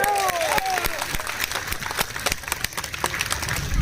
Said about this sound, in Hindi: तो सब लोग तालियों की गड़गड़ाहट से